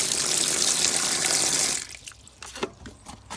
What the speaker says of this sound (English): So I literally put some water in each of them